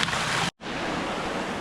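A small jungle waterfall gives a loud, steady rush of falling water, broken only by a brief cut to silence before the roar resumes.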